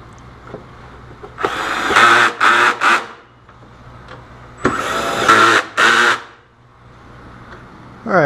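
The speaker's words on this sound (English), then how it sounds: "next I'm going to go ahead and install these bolts that hold this" A power tool drives bolts to fasten a snorkel airbox cover, sounding as several short, loud whirring bursts in two close groups with quiet gaps between.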